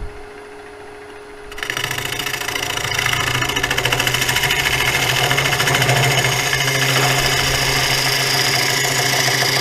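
A wood lathe turns a free log while a gouge bevel cuts straight in to hollow a bowl; a dense, continuous whirring scrape starts abruptly after a quiet moment and holds steady and loud to the end.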